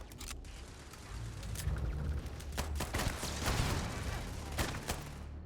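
Automated turrets firing in Starfield, a steady run of sharp shots and impacts over a rumbling game background, moderately loud and continuous.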